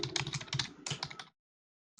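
Rapid keystrokes on a computer keyboard while code is being written, a quick uneven run of close, crisp clicks for just over a second before stopping abruptly into silence.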